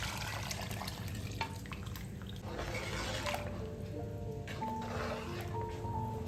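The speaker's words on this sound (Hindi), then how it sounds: "यखनी देखिए ये मैं इसमें शामिल कर रही हूँ।" Mutton yakhni stock pours into a pot of mutton pulao as a continuous, soft liquid splashing and trickling, close and steady, with no talk.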